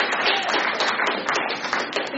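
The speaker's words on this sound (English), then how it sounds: "Another round of applause." An audience at a poetry reading claps in a lively, dense burst of applause, heard close and fairly loud with individual claps flickering through the wash.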